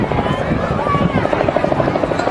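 A small rotor aircraft, an autogyro, flying at a seaside airshow, its rhythmic chopping blade beat and engine drone loud and steady throughout, as if passing fairly close overhead.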